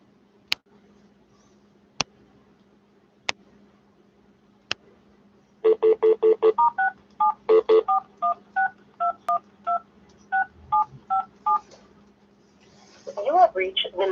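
Telephone keypad dialing tones: four isolated beeps spaced a second or so apart, then a quick run of about fifteen crisp touch-tone presses in an uneven rhythm, followed by a brief burst of other phone tones.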